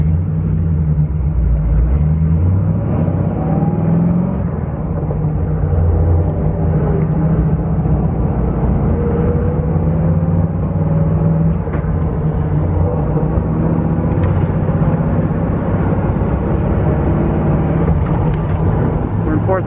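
A deep engine drones steadily while a restored 1941 Ford Super Deluxe Coupe drives in fourth gear, with low rumble and road noise filling the whole stretch and no talking.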